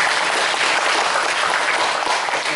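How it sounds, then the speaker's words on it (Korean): An audience applauds steadily at a Korean reconciliation forum, a dense, loud, even wash of many hands clapping close by without a break. "여러분 박수 부탁드립니다."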